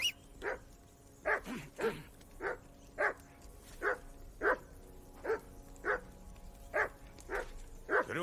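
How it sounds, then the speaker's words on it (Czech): Dog in Kingdom Come Deliverance 2 barking repeatedly in sharp, evenly spaced yaps, about a dozen over several seconds, fairly close and loud, with faint background ambience between barks. "Kriste, pane Jindro, to štěkání je šílený."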